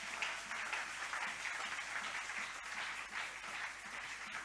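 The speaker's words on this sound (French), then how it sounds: "On applaudit pour les Seigneurs." A church congregation applauds, a steady patter of many hands clapping at moderate volume, slightly distant and continuous for a few seconds.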